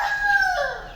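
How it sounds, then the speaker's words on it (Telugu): A Kadaknath country rooster crows on a dairy farm, one drawn-out call that is loud and fairly close, with no talk over it. "కడక్నాథ్ కోడి"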